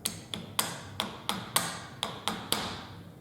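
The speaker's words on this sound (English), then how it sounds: "I put my piece of plastic on here and tap it" Tapping through a piece of plastic on a rifle's dovetail sight, on a Henry 30-30 with a semi-buckhorn sight: nine sharp, close taps at a steady, slightly uneven rhythm, each with a short ringing decay, no talk.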